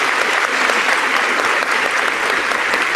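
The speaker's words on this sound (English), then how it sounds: "Please join me in a round of applause." Sustained, dense applause from a large audience at a high school commencement ceremony, loud and even throughout without breaks, filling the room with no distinct voices.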